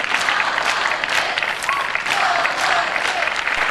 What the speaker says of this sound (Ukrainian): Ну що ж, проводжаємо Анастасію Приходько під ваші оплески.